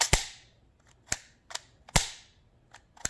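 Byrna pepper ball launcher firing five sharp, snappy shots at irregular intervals, the first and fourth loudest with brief decaying tails, close and with no talking.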